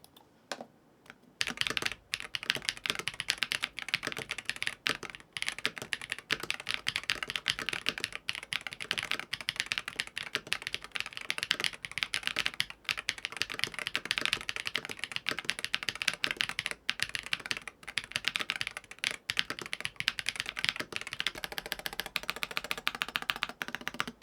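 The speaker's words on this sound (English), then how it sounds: "let's go ahead and listen to the whole keyboard with the switches and keycaps on" Typing on an MCHOSE Ace 68 Air keyboard with switches and keycaps fitted: a dense, steady stream of close keystrokes that carries on evenly for over twenty seconds, with no talking.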